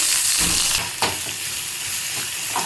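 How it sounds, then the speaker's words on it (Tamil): Cumin, five dried chillies, curry leaves and onion sizzle loudly in hot oil for a banana flower kootu, a steady dense hiss with brief stirring scrapes close by. "நல்லா வதக்கி விட்டு நம்ம தாளிப்பை வந்து கூட்டோடு சேர்த்துக்கலாம்."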